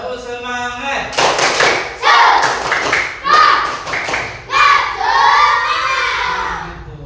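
A classroom group performs a rhythmic clap chant, bursts of loud unison clapping alternating with shouted chanting from children, punchy and close, the pattern repeating several times.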